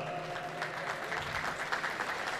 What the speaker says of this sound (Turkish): Evet, alkışlarınızla